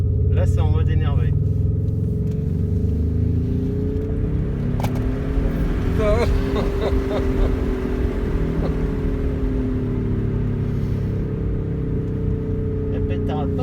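A Tesla electric car plays a simulated Ferrari engine sound in an aggressive mode, giving a loud, close, sustained rumbling drone with rising revs while people talk over it in the cabin.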